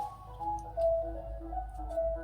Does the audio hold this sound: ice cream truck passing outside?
yes